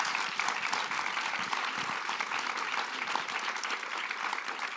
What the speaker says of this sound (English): if I can have from all of you a massive round of applause for this panel